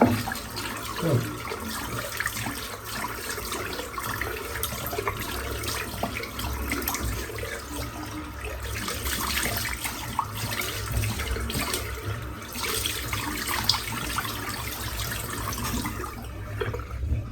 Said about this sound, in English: let's just rinse the tub of soap out, as always